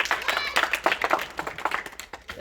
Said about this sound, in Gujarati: તાળીઓ પાડતા